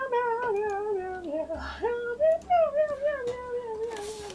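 A cat meows repeatedly in a drawn-out, wavering series of cries, close and fairly loud, with brief pauses between calls and a soft rustle near the end.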